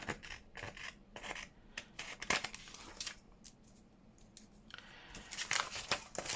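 Scissors trim the edges of paper book pages in a run of close, crisp snips and slicing cuts with short pauses between them, and no one speaks.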